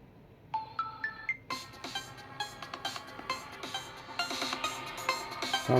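Ringtone played through the speaker of an Infinix Hot 30 phone: a short rising sequence of tones followed by a bright, rhythmic melodic tune with repeated plucky notes, close and clear.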